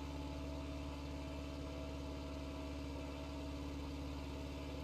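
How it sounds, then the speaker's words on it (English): The engine of a Piper Supercub light aircraft, simulated in X-Plane 11, idles as a steady, even drone with a fine rapid pulse, holding constant and moderately quiet with no talk. "Engine sounds great."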